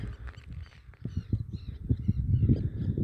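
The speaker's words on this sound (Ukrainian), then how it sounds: "чайки." Gulls and other birds calling at a coastal estuary lagoon, a dense chorus of harsh caws and cries at moderate distance, steady throughout with wind and open-air ambience beneath.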